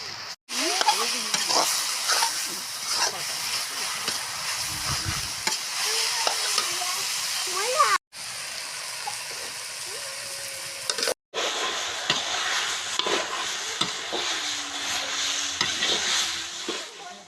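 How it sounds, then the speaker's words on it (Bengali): Pumpkin leaves frying in oil until dry, a loud close sizzle with stirring and scraping throughout, briefly cut twice, without speech. "এমনভাবে ভেজে নিতে হবে যেন এর সঙ্গে একটু রস না থাকে, অনেকটা শুকনো শুকনো করেই ভেজে নেব।"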